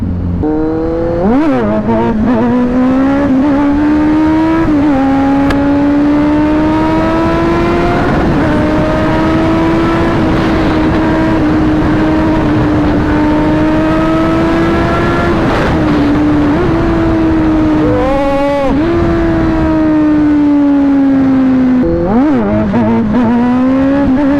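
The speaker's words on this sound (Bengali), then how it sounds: "খতরনাক থ্রটেল রেসপন্স ভাই" Kawasaki Z900 motorcycle engine revving hard with sharp throttle blips, a loud, close, continuous rasping exhaust whose pitch climbs and drops repeatedly over a steady high idle, with no talk.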